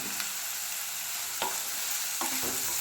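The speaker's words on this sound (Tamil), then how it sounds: "இந்த 3 முட்டைக்கு வந்து இந்த அளவு வெங்காயம் போடணுங்க. நல்லா ஃப்ரை பண்ணிக்கணுங்க." Sliced onions fry in oil for a Madurai-style egg masala, a soft continuous sizzle broken by three or four scraping stirs of a spatula against the pan, close and without voices.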